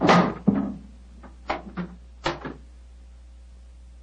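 A heavy elephant-house door is worked open in a radio drama, with a series of wooden knocks, creaks and clunks spaced over a few seconds, close and fairly loud.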